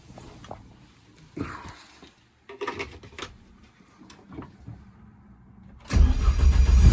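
A turbocharged Renault Clio track car's engine cranks after several knocks and rattles, then catches and roars loudly at the end, close by.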